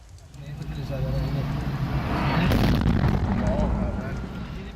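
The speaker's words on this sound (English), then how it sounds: "Another morning of explosions across Iran." Explosions from strikes in the central Iranian city of Isfahan rumble during morning rush hour, a heavy, sustained boom that swells, peaks with a sharp burst, and slowly fades, heard from some distance.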